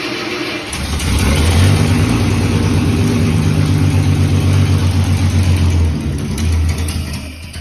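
A rebuilt 1951 Chrysler 218 six-cylinder engine for a 1949 Massey 21A fires up for the first time, cranking then catching into a loud, steady close-up run with rising revs before settling and fading.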